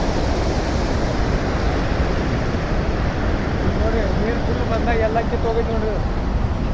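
Water rushes loudly and steadily from two opened gates at Shirur dam, a broad continuous roar with wind noise, while people talk faintly over it.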